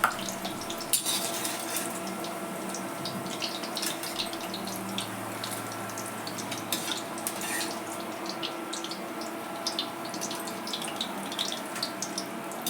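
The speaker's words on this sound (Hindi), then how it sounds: "इसको हम डालेंगे पानी में।" Lightly fried paneer pieces go into a bowl of water in a home kitchen, with soft splashing, trickling water and occasional clinks of utensils against dishes, steady and close with no talking.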